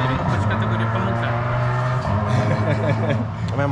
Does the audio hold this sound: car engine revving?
yes